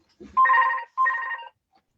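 A phone rings twice at close range, each ring a buzzing electronic trill of about half a second, with a short pause between them and quiet otherwise.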